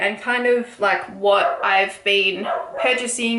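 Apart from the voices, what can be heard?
dog barking in the background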